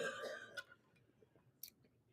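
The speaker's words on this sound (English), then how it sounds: "We all have this crazy allergy cough." A short, harsh allergy cough, close and fairly loud at the start, followed by quieter faint sounds and a small sharp click.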